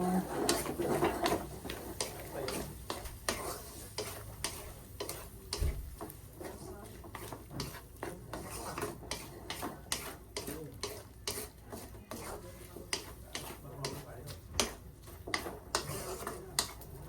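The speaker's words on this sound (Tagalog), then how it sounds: "Yan, haluin na natin ito." A spatula clicks and scrapes through canton-bihon guisado noodles, seasoned with pepper, in a pan, making a steady run of small, sharp ticks and scrapes close up with a faint sizzle underneath.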